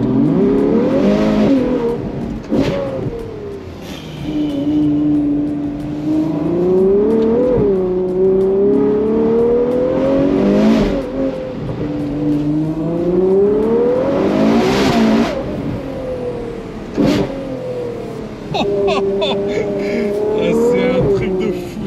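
A Ferrari 812 GTS V12 convertible repeatedly accelerating and revving, its engine pitch rising in several long sweeps with sharp shift cracks and blips between them, loud and close from inside the car.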